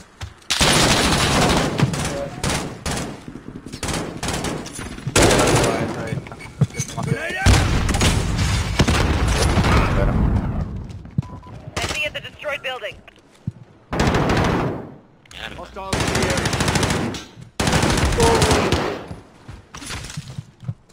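Automatic weapons fire in bursts in the online shooter video game Kill Confirmed, with rapid loud rattles and booms separated by short pauses, and a voice cutting in at times.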